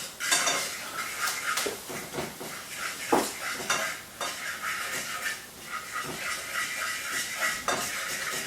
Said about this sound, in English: Start to whisk that in.